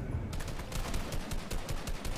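Rapid gunfire in a shooting video game crackles in a dense rattling burst, shots fired in quick bursts throughout, moderately loud with no talk.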